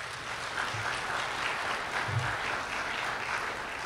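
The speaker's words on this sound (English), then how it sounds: "So let's start by giving yourselves and Travis and Shelley a round of applause" A conference keynote audience applauds steadily throughout, a dense wash of clapping from many hands with no talk over it.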